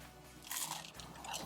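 One crisp, crackly bite into a slice of Papa John's crispy parm pizza, close to the mic and brief, with a crunchy burst in the middle.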